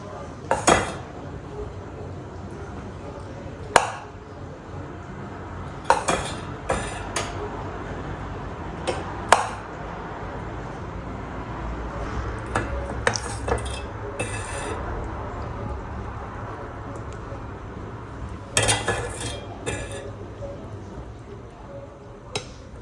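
Metal utensils clink and knock against an appe pan as sugar syrup is poured in for a Gudi Padwa sugar garland, with scattered sharp taps and clatters over a low steady background and a faint voice now and then.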